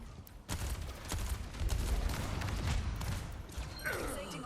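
Continuous gunfire striking Reinhardt's energy shield in Overwatch, a steady dense clatter of shots with a voice talking over it near the end.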